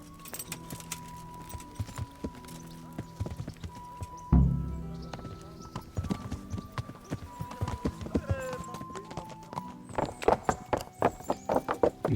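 Hooves clip-clop in the video game Kingdom Come: Deliverance, an irregular rhythm alongside jingling tack and a few sharp knocks, with some talking mixed in.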